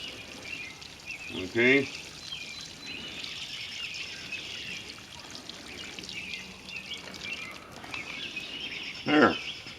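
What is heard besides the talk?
watering a container garden bucket, pouring water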